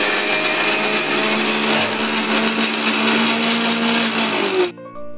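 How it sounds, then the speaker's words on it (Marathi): A kitchen mixer grinder runs at full speed grinding red chutney, producing a loud, steady high whine that cuts off near the end, leaving a fading hum. "इथे चटणी मम्मीने मिक्सरला लावले"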